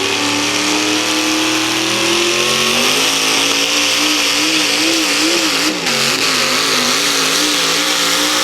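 A Chevrolet pulling truck roars at high revs during a truck and tractor pull, loud and sustained, its engine pitch wavering and rising as it strains down the track.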